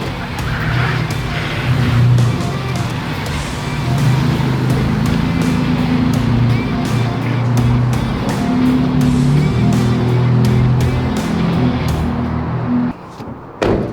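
A Toyota 4Runner on 35-inch tires, stock height, rolls along with a steady loud engine and road drone, close and continuous, with some tire scrubbing and a brief dip near the end.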